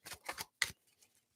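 A tarot deck being shuffled in two quick riffling bursts, then a single sharper slap of cards, followed by faint light handling sounds; close and fairly quiet with no talk.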